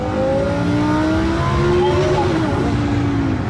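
Twin-turbo Lamborghini Huracan revving on a downshift into third gear, a loud close engine note climbing and then falling away, with a voice talking over it.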